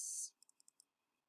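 A computer mouse clicks five times in a quick, even run, close and crisp, right after a brief burst of hiss.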